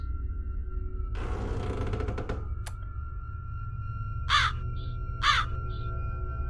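A crow in a video game caws twice, two short, clear calls about a second apart over a low, steady ambient hum, with a brief rattling clatter and a click shortly before.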